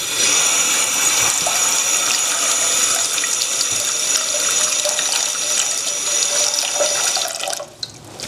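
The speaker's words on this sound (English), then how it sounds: "Just gonna rinse this out a bit." Tap water runs steadily into a small pot as it is rinsed in a kitchen sink, a continuous close splashing rush lasting several seconds before the flow stops.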